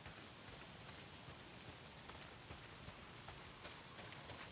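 Steady heavy rain pours down in a video game, a dense, even hiss of downpour that continues unbroken with no talk over it.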